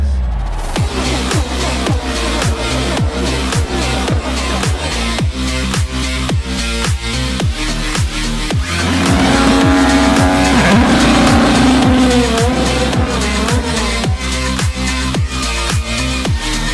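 Loud Honda race car engines roar and rev over a driving music-like beat, with a high whine rising mid-way; no voices.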